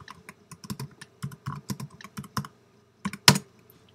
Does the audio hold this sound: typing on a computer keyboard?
yes